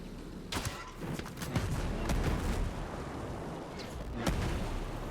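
Sniper rifle shots in Ghost Recon Breakpoint ring out as several sharp, spaced cracks over a steady low rumble of combat, with one strong report near the end.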